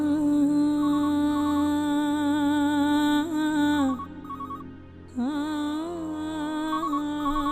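A mobile phone ringtone plays a repeating electronic melody, pausing briefly partway through and then continuing, clear and steady with no talking.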